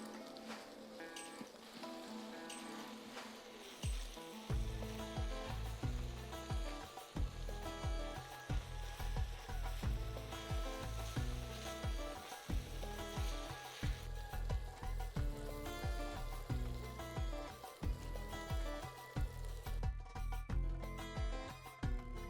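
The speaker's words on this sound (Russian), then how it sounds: "Лук отправляем в разогретое масло. Немного посолим, чтобы лук отдал сок и быстрее обжарился." Chopped onion sizzles steadily in heated oil with a little salt, a continuous frying hiss under rhythmic background music throughout.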